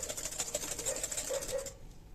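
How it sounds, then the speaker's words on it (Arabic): Eggs and sugar whisked briskly in a bowl with rapid rhythmic beating, an even close clatter that stops abruptly near the end, no talking. "دابا البنات غادي نطربوا هاد البيضه وهاد السكر حتى يذوب لينا السكر ويتبدل لينا اللون"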